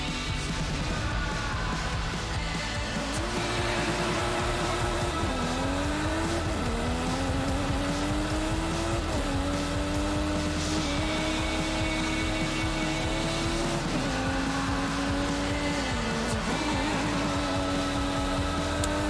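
Sustained engine drone of a racing car in Forza Horizon 5, a steady loud tone that climbs and drops through several gear shifts over a continuous road rumble.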